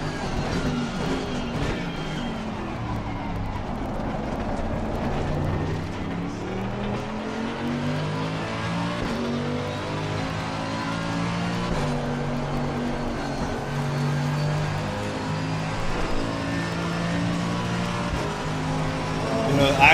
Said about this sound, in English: The engine noise is absolutely amazing.